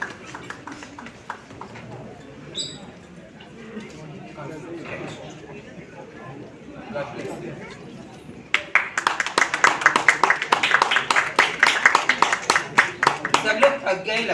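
Hearty crowd applause breaks out at an award ceremony in a hotel, a dense burst of many hands clapping that rises suddenly and keeps going loud, following a quieter stretch of murmuring room noise.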